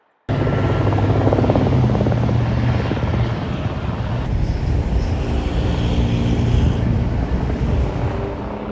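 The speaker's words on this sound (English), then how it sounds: "There are just lots of helicopters flying in this area." A helicopter over Asheville gives a steady, loud rotor thrum and engine roar that fill the whole stretch, continuous and close overhead with no other sounds.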